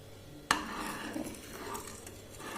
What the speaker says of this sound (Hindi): अब हम इसको कंटिन्यूसली चलाते रहेंगे, और ये ताकि नीचे ना लगे।